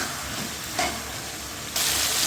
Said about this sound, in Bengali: খুব ভালোভাবে বেগুনগুলো নেড়ে চেড়ে এই মশলার সাথে মিশিয়ে দিচ্ছি।